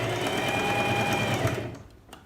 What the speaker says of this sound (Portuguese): Costurando entre o amarelo e o verde.